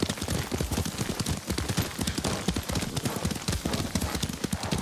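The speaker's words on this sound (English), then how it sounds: "Lord Sakai taught me to ride a horse." Horse hooves clip-clop steadily as a rider travels on horseback in the samurai game Ghost of Tsushima, a dense rapid patter of hoofbeats that continues throughout over a noisy, rain-like background.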